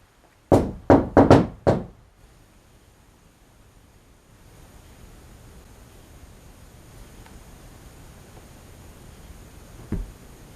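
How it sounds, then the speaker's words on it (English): A hand knocks on a wall five times in a quick rhythmic pattern near the microphone, then faint room hiss continues, with one soft, distant tap much later. "If I were to knock on this wall, could you complete the rest of what I'm knocking?"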